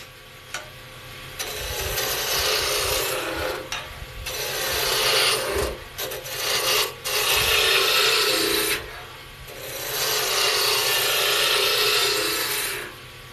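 Roughing gouge cutting a spinning wooden workpiece on a lathe, giving a steady, loud scraping rasp in long bursts with short pauses between passes, heard alone without talk.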